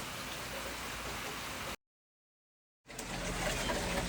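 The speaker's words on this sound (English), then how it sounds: "the rain is here" Steady rain falls on a lawn as a dense, even wash of patter, broken by a gap of about a second of silence before the rain resumes at the same level.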